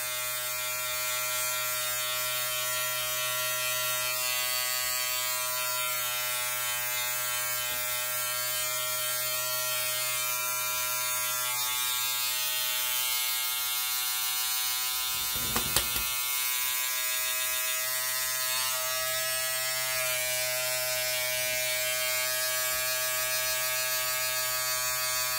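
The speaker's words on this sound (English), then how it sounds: "then just use your bullet or peanut" A bullet or peanut hair trimmer buzzes steadily and loud at close range for the whole stretch, with a brief clatter partway through.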